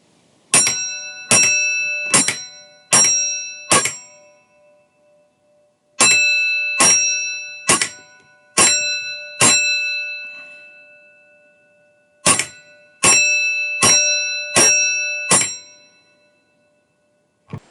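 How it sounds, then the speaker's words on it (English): A signal box block bell at Minehead on the West Somerset Railway rings in three crisp groups of five strokes, bright metallic dings with ringing decay and quiet pauses between groups. "Our bell rings 5, 5,"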